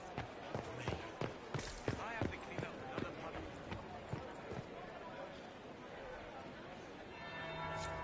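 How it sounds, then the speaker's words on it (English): Bell ringing in the video game Dragon Age: Inquisition, heard as a series of sharp struck tones spaced through the first half, then fading under soft background ambience as speech continues. "That would be the second bell."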